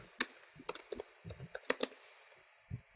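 Keys clatter on a computer keyboard in quick, uneven bursts of close, sharp clicks with brief pauses, typing content into a web page editor.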